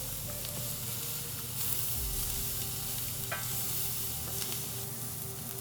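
Wild rice with venison and mushrooms is stirred in a hot pan: a continuous sizzle, with the scrape of a utensil against the pan now and then and occasional small clinks, close and steady.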